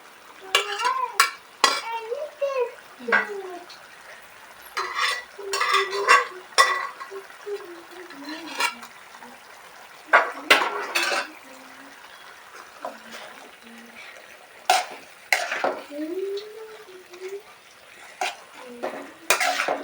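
Vegetables with beans and peas fry in a pan while a utensil stirs and scrapes them, giving irregular clattering strokes and soft sizzling across the whole stretch, close and moderately loud.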